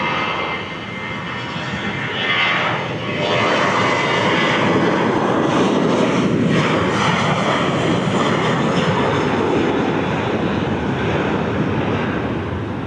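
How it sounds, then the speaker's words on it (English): At Portland PDX airport, an airplane takes off with a steady, broad jet roar, heard from a distance with some wind noise and no voices throughout. "Takeoffs are a little less exciting from this runway."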